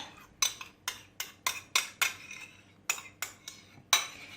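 A spoon stirs yogurt and mayonnaise together in a bowl for Russian salad, giving a steady series of sharp, close clinks and scrapes about every half second, with no talking.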